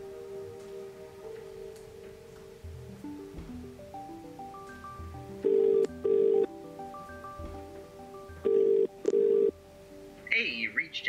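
A phone call to someone named Jack: keypad tones first, then repeated double bursts of ringback tone sounding through the handset, fairly clear against a quiet background with a faint rustle at the end.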